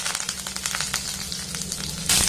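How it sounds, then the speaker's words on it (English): Mustard seeds, cumin seeds, chopped green chili and curry leaves sizzle loudly in hot oil in an Indian-style tempering, a steady crackling hiss with popping bursts that swells brighter near the end. "Fry the curry leaf for a few seconds."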